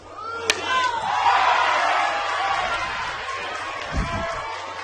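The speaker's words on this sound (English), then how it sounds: "They cheer every pitch." Spectators at a Little League Softball World Series game between Canada and the Philippines roar and cheer, a sustained, fairly loud crowd wash with a sharp impact near the start and a low thump later.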